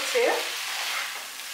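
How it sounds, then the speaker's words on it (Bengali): Kolkata-style egg noodles are stir-fried in a pan over a gas flame, with a soft steady sizzle and a brief scrape of stirring near the start. "দেখুন নুডলসগুলো ভাজা হচ্ছে।"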